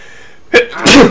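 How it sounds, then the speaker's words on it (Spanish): A loud, close sneeze in two bursts, a sharp intake-like first burst followed a beat later by a fuller, explosive release, against a faint background hum. "Joder con los estornudos."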